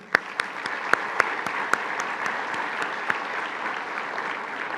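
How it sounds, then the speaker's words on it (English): An expo audience claps for sponsors and supporters, steady crowd applause at moderate level with several sharper nearby claps standing out, no voices over it. "let's now give all of our sponsors and our supporters a big round of applause"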